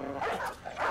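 A dog in the medieval battle game Battle Brothers gives a couple of quick, yappy barks close by, sharp and brief, with a faint hum of game ambience underneath.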